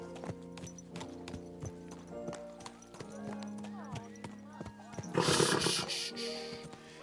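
Horse hooves clip-clop steadily in Kingdom Come Deliverance 2, close and rhythmic, under a man's occasional speech, with a brief burst of louder broadband noise near the end.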